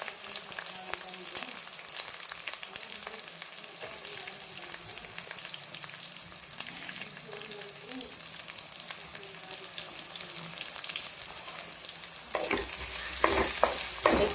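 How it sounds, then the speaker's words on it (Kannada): Onions with chillies and curry leaves frying in a pan give a continuous even sizzle with stirring, and louder scraping strokes come near the end. "ಈರುಳ್ಳಿ ಸ್ವಲ್ಪ ಚೆನ್ನಾಗಿ ಫ್ರೈ ಆಗಲಿ"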